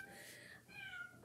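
Gordon, a talkative pet cat, cries with two drawn-out, plaintive meows close by, soft but clear.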